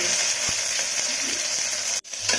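Onion and tomato sauté in a pan for bisibelabath, making a steady sizzle with faint scrapes of a spatula and a brief sharp clatter near the end.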